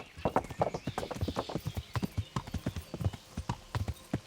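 Horse hooves clip-clop at a steady walking rhythm in the video game Kingdom Come: Deliverance, close and fairly loud, with a faint whinny-like sound at times and no talking.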